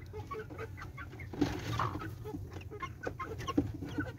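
Newly hatched chicks and nearby chickens produce a steady mix of soft peeps and clucks, with a couple of louder calls standing out against a continuous, fairly busy background of farmyard bird sounds.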